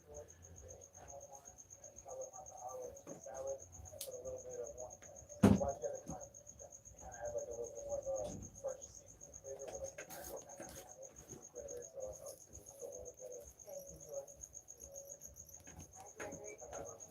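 Crickets chirping inside a cage holding Balfouri, a steady high trill running throughout, with soft rustling and a sharp knock near the middle, quiet and close.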